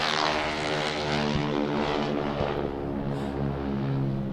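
Aircraft flying in formation at an air show, a loud, steady propeller-engine drone with a throbbing pulse, sustained and close overhead, no talking.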